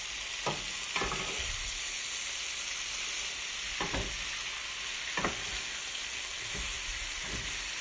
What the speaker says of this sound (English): Just sauteing like this.